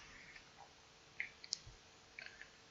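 Computer mouse clicks in a quiet room: a few faint, sharp, isolated clicks spaced unevenly over about three seconds.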